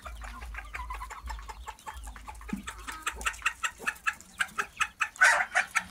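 Chickens in a backyard coop cluck in quick repeated bursts that grow louder and more rhythmic toward the end, close to the listener with faint low rumble beneath.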